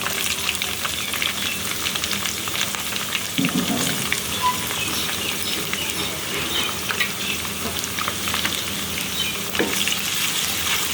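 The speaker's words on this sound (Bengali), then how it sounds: "আজকে আমি এগুলো একটু কড়া করে ভাজবো" Chopped onions fry hard in oil alongside cloves and black pepper for a goat curry, sizzling steadily up close with occasional stirring scrapes and a louder clatter around the middle.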